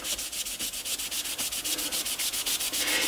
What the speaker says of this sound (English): we'll take a little bit of our Brasso, which is the only thing you should use to clean brass tubes with, and we'll put a little bit on a rag, and we'll give it a little rub here